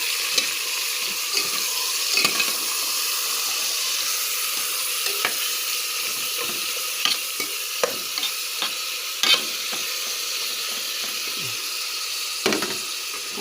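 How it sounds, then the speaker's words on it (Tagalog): Ingredients sautéing in a hot pan, a steady close sizzle running throughout with intermittent scrapes and clacks of a utensil stirring, no talk. "Ayan, igisa ko na."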